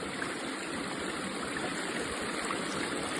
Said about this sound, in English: And we'll just keep the flow of the water into the pan.